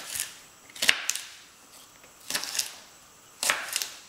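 Knife chopping through sweet potatoes on a cutting board for a salad, three sharp separated thunks spaced about a second apart, close and clear with no talking.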